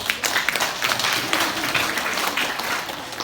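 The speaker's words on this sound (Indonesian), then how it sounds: "Tepuk tangan untuk Pak Bambang." An audience applauds at an Indonesian small-business event, a steady, moderately loud patter of many hands clapping for a few seconds without a break.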